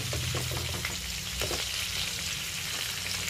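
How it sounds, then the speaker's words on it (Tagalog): Pork sizzles and fries in a pan for an adobo with tomatoes, a steady, close crackle with occasional stirring scrapes and no voices. "Kailangan muna natin i-fry siya ng bahagya."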